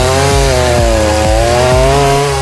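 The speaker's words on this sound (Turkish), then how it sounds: "Kingsaw testere en sert ağaçları kolayca kesebilmeniz için orijinal Amerikan zincir ve palayla donatılmıştır" A Kingsaw gas chainsaw fitted with an American chain and bar runs loud and close, its engine holding a steady high whine while the chain bites into hard wood, with several brief load dips as it cuts.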